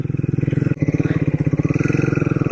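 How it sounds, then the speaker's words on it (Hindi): A Triumph Speed 400 motorcycle engine pulses close and loud with a rapid, throbbing beat as the bike skids on loose desert sand dunes. A brief dip breaks the steady thumping partway through. "स्किट हो रही थी बाइक"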